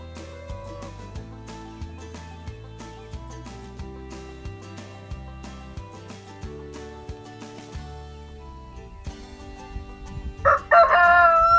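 A rooster crows once, near and clear, at the very end, following a long stretch of steady background music with no animal sounds.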